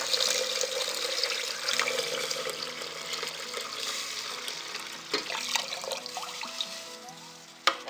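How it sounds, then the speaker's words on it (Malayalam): Milk pours steadily into a pot for broken wheat caramel payasam, a continuous close splashing rush that eases off toward the end, with a couple of faint clinks. "ഇത് 5 കപ്പ് പാലാണ് ഞാൻ ഒഴിക്കുന്നത്"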